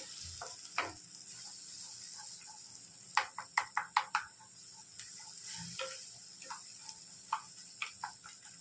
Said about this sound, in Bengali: ডিমটা এইভাবে ভেজে নেবেন।